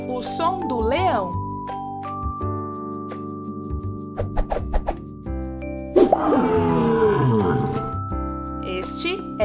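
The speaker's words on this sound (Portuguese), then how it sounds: "Este é o som do leão, pronto para rugir novamente." A lion's roar rises over background music in a children's animal-sounds lesson, one long swelling growl midway between shorter tonal bursts.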